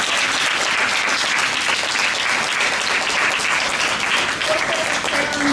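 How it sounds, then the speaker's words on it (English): A poetry-reading audience gives the readers a loud, sustained round of applause, dense and even throughout with no break. "If we can get another round of applause."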